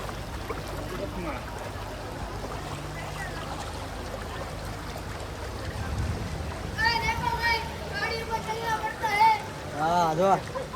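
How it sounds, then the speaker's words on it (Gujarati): Floodwater flows through a city street in Surat, a steady low rushing wash that continues throughout, with people talking over it in the second half. "વહેતું પાણી છે"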